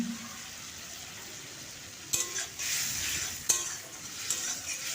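Spice masala with Kashmiri chilli powder and salt stir-fried in a pan, a low steady sizzle broken by two sharp scraping stirs, close and quiet, with no talk.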